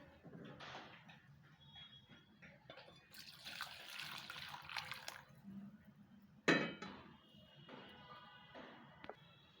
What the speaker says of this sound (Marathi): आता मी यामध्ये गरम पाणी घेते.